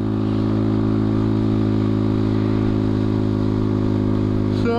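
A motorcycle engine drones steadily and loudly up close, a constant rumble held throughout with a brief clatter at the very end.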